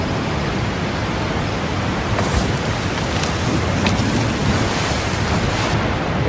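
Rushing waterfall in the Forza racing game: a dense, loud, continuous roar of falling water that fills the whole stretch steadily, with no talk over it.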